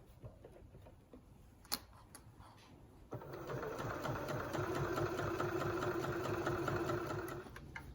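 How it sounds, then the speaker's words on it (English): A sewing machine stitching fabric for a sewn advent calendar, a quiet tick and a single click first, then a fast, steady whirring run of stitches for about four seconds before it slows. "I'm just going to sew to the corner, stop with the needle in the fabric, lift and pivot round"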